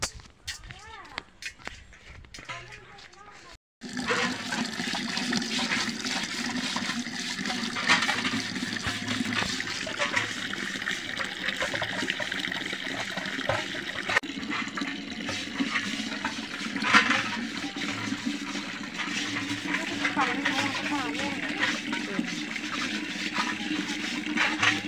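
Water from a mountain spring on a Himalayan hillside rushes steadily into containers being filled. It makes a continuous close splash and gurgle that starts abruptly after a few seconds of quieter sound, and someone talks over it at times.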